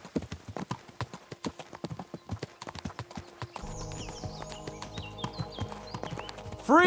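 Horse hooves clip-clop in a steady trotting rhythm up close in Kingdom Come: Deliverance 2, then a soft ambient tone and bird-like chirps rise behind them before a sudden loud swell.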